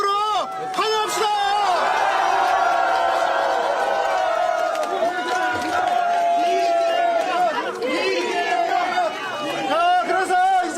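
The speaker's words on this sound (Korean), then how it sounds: "다시 한번 이재명 후보님을 뜨거운 박수와 함성으로 환영합시다" An outdoor crowd at a presidential campaign rally in Jinan County, North Jeolla, cheers and shouts to welcome Lee Jae-myung, loud and sustained, while an amplified voice speaks over the noise.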